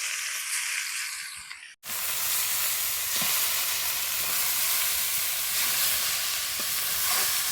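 Drumstick leaves hit hot oil with banana stem, dry chilli and chopped garlic, breaking into a loud, sustained sizzle after a brief pause, with faint stirring clicks throughout.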